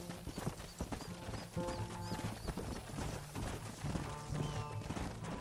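A horse gallops in the video game Red Dead Redemption, with steady rapid hoofbeats over a busy game soundtrack and background effects, no talking.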